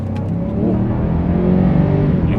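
A Mercedes-Benz S-Class engine revs with a deep, steady growl, loud and close, holding strong for a couple of seconds.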